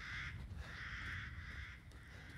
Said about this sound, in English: Loud ass birds.